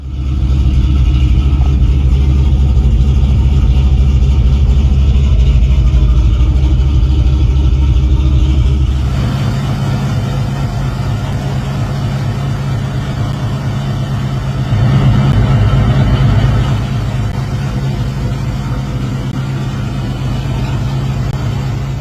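A supercharged Mustang 2V engine runs steadily while warming up, a loud continuous low drone that shifts tone partway through and swells briefly before settling, with no voices.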